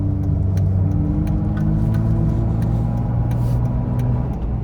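A loud Jeep Wrangler engine drones with a deep, steady rumble from inside the vehicle, holding a constant heavy growl with faint ticking above it and no speech.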